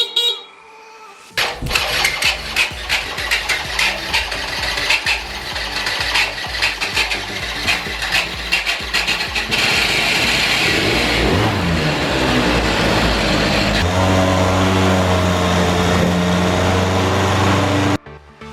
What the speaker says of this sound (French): Donc il démarre, il accélère, il tient le ralenti, il n'y a pas de souci.